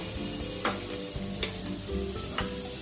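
Food frying in a pan gives a continuous close sizzle, broken by three sharp spatula scrapes or taps at roughly even intervals.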